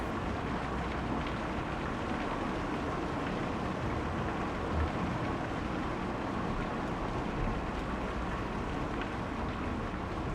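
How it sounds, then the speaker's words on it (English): Steady rain from the video game Kentucky Route Zero, a dense, even hiss of falling water that runs unbroken for the whole stretch with no voices over it. "Kinda nice just to watch the rain go."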